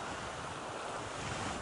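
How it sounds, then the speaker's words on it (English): Turbulent river water rushes in a steady, dense wash of broadband noise, close and continuous with wind-like hiss, heard at a fly-fishing spot during Spey casting. "I have some turbulent water down there."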